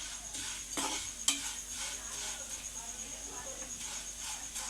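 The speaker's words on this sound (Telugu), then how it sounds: "ఎర్రగా ఫ్రై అవుతున్నాయి ఫ్రెండ్స్" Food fries quietly in a pan, a soft sizzle under occasional stirring scrapes and a sharp utensil clink early on, with a voice talking faintly over it.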